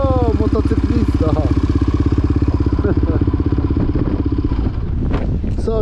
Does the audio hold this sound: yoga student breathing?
no